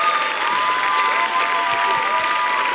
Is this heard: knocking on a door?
no